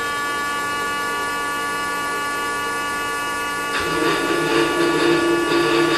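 Union CNC horizontal boring mill homing its axes: a steady electric whine and tonal hum, then a louder, busier mechanical drive noise kicks in partway through and runs to the end.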